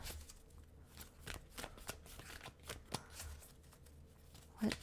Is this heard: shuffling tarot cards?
yes